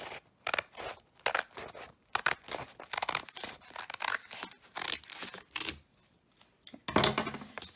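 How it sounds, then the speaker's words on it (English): Scissors snip through a stapled paper packet, cutting it in half with a series of quick, close crisp snips and rustles in short bursts, then a louder burst of paper handling at the end. "you want to take your packet and you want to cut it in half"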